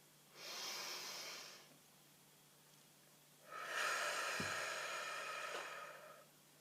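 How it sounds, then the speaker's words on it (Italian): A slow breath drawn in, a pause, then a longer, fuller exhale, close and airy with no talking. "facciamo un bel respiro profondo."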